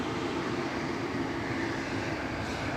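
A Swiss Embraer 190 jet at Zurich airport gives off a continuous, even engine roar with a broad hiss, moderately distant and unbroken by talk.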